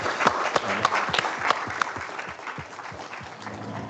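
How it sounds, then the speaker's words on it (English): An audience at a tech talk applauds the speaker, a dense, sustained round of many hands clapping at close range, with individual sharp claps standing out and slowly thinning toward the end. "I'd like everyone to give one more round of applause for Dan"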